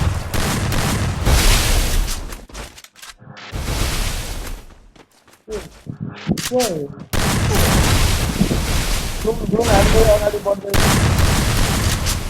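Gunfire in a 1v1 video game plays as loud bursts of shots and booms, with short pauses and someone talking over the action.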